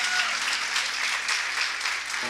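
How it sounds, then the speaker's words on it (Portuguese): At a church service for girls and teenage women, the congregation claps in a loud, steady round of applause that fills the whole stretch without pause. "Não vale uma salva de palmas?"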